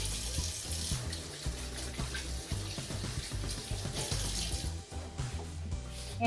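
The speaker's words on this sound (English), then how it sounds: "Wash my hands." Hands washed under a running kitchen tap, a steady close splash and gurgle of water that lasts throughout, with shifting spatter as the hands move in the stream.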